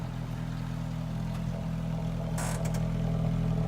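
Close, steady Ford SVT car exhaust rumble with a low idle drone, briefly broken by a short metallic clatter midway; no voices.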